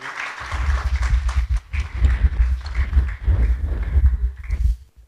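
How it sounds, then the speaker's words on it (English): A forum audience applauding, a steady rhythmic patter of many hands clapping at moderate loudness for about five seconds, with no speech over it. "Please, a big round of applause for him for me."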